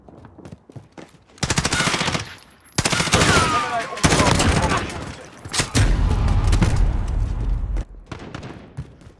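Bursts of M4A1 rifle fire through a muzzle brake, sharp and loud at close range: a few single cracks, then sustained rapid automatic volleys with brief gaps between strings and ringing echoes trailing each burst.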